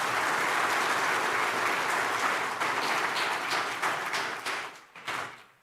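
Audience applause at the Aster Guardians Global Nursing Award 2025 ceremony in Dubai, honoring nursing finalists; steady dense clapping that holds loud for several seconds, then thins and fades toward the end.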